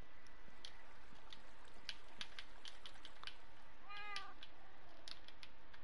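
A cat lets out one short meow indoors, quite faint, about two-thirds of the way through. Light clicking and a soft, quiet room background surround it.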